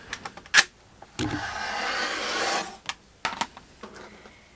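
A rotary cutter slices a fabric strip on a cutting mat for a handmade baby quilt, a sustained close scraping swipe lasting over a second, framed by sharp handling taps and clicks.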